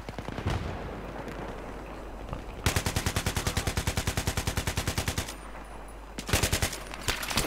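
Automatic gunfire in Battlefield 3: loud rapid bursts of machine-gun fire, a long sustained burst followed by shorter bursts, with battlefield noise between them.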